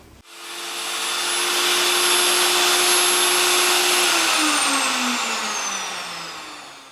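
An electric router with a smaller bit cuts a deeper hole for a router table in repeated passes. A high motor whine spins up quickly, holds steady and loud, then winds down in pitch toward the end.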